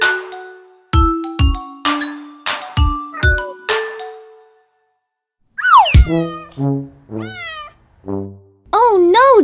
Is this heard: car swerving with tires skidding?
no